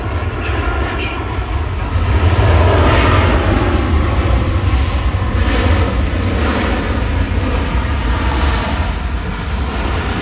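An aircraft at Sydney Airport near runway 16 right roars with a loud, steady jet engine rumble that holds for the whole stretch, with a broad wash of wind-like noise.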